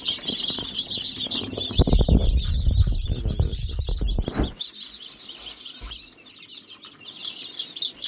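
Australorp chicks chirp busily and continuously in a high, dense chorus while feeding on mealworms in a coop, with some rustling and shuffling nearby in the first half.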